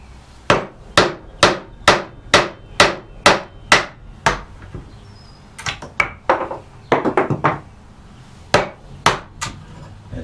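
A chisel is struck again and again to chop chunks out of wood, loud close blows in a steady rhythm, then a quicker cluster of hits and a few final strikes, with no talking.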